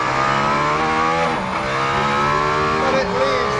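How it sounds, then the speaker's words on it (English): A Formula 1 car's engine screams as it accelerates hard, a loud high-pitched wail climbing through the gears with sharp shifts and brief dips, heard close and continuously. "It's just a full-on assault, this car, and the powertrain is the heart of it."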